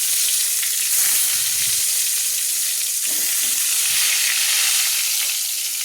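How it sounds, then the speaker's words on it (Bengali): Eggplant slices coated in salt and turmeric frying in hot oil for a Bengali begun chingri dish, a steady close, loud sizzle with bubbling crackle running throughout, no voices. "4টে বেগুন আমি ভেজে নিচ্ছি"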